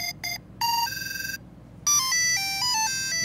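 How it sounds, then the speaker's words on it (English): A bright, electronic old phone ringtone plays short bursts of beeping tones, pauses, then a longer melodic run of stepped notes, close and clear. "That's an old ringtone"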